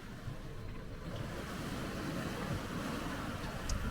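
Steady wash of ocean waves and surf around a sailboat at sea on a passage from Virginia to the Caribbean, with wind noise rumbling across the microphone throughout and no talking.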